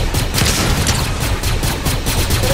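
Rapid video game gunfire rattles in a dense, continuous burst of loud shots, close and sustained for the whole moment with no talk over it.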